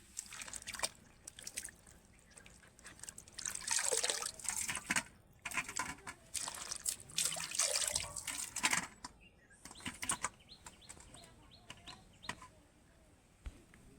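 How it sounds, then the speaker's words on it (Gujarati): Cauliflower is washed under a running tap, water splashing and dripping in irregular bursts with handling noises and short pauses between rinses. "આ મિત્રો ફ્લાવર છે આપણે ધોઈ નાખીએ"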